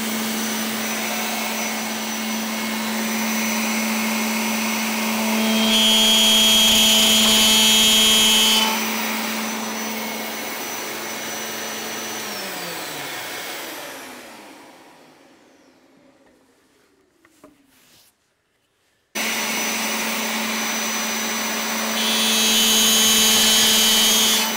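A cutter runs on a walnut box, cutting dovetail mitre spline slots. It gives a loud, steady whine that swells while it cuts, then winds down into silence and starts again at full loudness.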